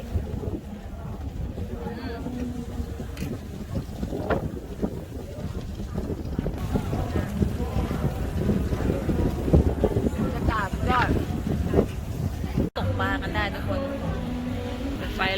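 Strong wind buffets the microphone aboard a speedboat out at sea off Pattaya on a squid-fishing trip, a loud continuous roar mixed with engine and water rumble, while people talk over it throughout.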